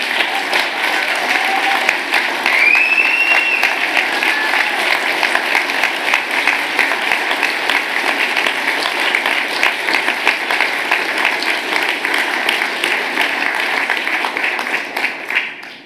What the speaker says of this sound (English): Fantastic, you've got a standing ovation.